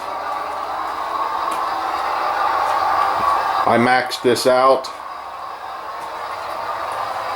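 An Athearn Genesis ES40DC GEVO model locomotive with ESU LokSound whirs and hums steadily in the background, pulling a long train of cars, while someone speaks briefly over it.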